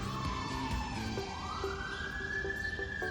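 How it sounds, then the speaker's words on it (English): A wailing emergency siren in New York City rises and falls steadily throughout, loud and continuous, with distant city rumble underneath and no talking. "It's a siren."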